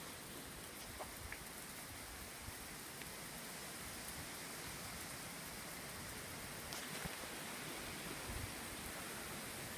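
Steady rain pours outdoors during Hurricane Irma, a constant dense hiss of falling water with occasional distinct drops, continuous and moderately distant throughout with no voices.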